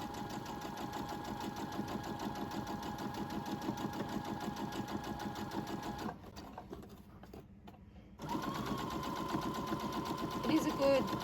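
Brother A150 domestic sewing machine stitching fabric at a 2.5mm stitch length, a steady close mechanical whir with rapid needle ticking that pauses for about two seconds, then resumes.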